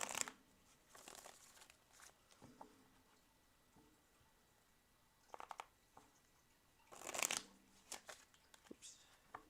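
Tarot cards riffled and shuffled in several separate bursts of crisp papery flutter, with quiet pauses between them and no talking.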